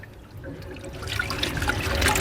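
Water runs from a tap into a sink while dentures are being cleaned, a continuous close splashing trickle that grows a little louder toward the end.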